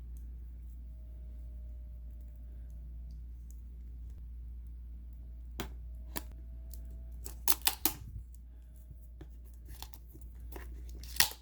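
Sparse clicks and crinkles from someone opening the box of Lypertek Soundfree S20 earbuds and sliding off its plastic wrap, with scattered sharp taps and a brief cluster of crackles over a steady low room hum, no talking.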